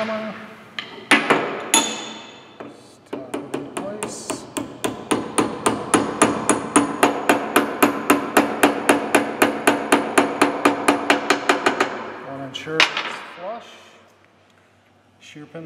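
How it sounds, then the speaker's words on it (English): A hammer taps a brass shear pin into aligned holes on a slickline hydraulic tubing punch, a long fast run of sharp metallic strikes, close and steady, with a few heavier blows at the start and end and brief talk around them. "Then use the hammer. Just tap it in place."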